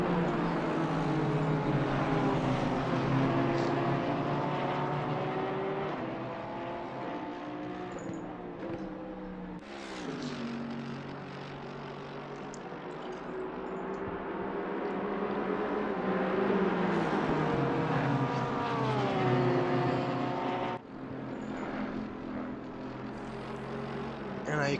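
Race car engines in Assetto Corsa Competizione at Monza whine and shift up and down continuously, with gear changes and passing cars under a commentator's ongoing talk.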